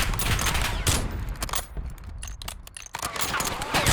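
Rapid bursts of video game gunfire crackle dense and loud throughout, with a brief thinner patch midway, under a player's excited talk.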